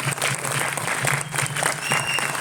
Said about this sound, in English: So I think we should clap for Bhushan as well